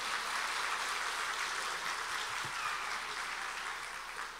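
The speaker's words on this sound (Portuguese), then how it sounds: "Vocês podem dar uma salva de palmas para a irmã Raimunda esta noite?" A church congregation applauds sister Raimunda during an evening service, a dense, steady wash of many hands clapping that holds evenly throughout and eases slightly at the end, with no talking over it.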